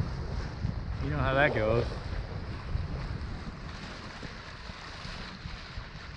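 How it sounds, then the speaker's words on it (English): Steady wind rushing and buffeting the microphone aboard a sailboat on Lake Michigan in about six knots of breeze, a continuous broadband roar with water wash beneath, and a brief spoken phrase near the start. "But finally got about 6 knots of wind."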